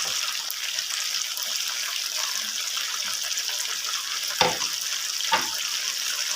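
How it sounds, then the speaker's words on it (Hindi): Chicken frying in hot oil in a street-food kitchen in Old Delhi, a steady close crackling sizzle throughout, with two brief louder clinks or stirs near the end. "अब हम इसको कंप्लीट फ्राई करेंगे।"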